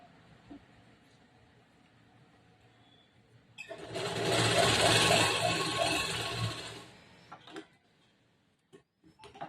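A sewing machine runs a single burst of stitching along a blouse side seam, a close, fast, steady whirring chatter lasting a few seconds between quiet stretches of soft handling clicks and fabric rustle.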